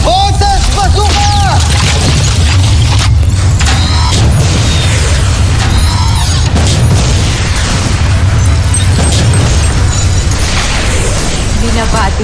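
Voltes Bazooka weapon firing and exploding in the Voltes V Legacy television series: loud, dense booms and blasts layered with mechanical effects, continuous for over twelve seconds, with voices over them.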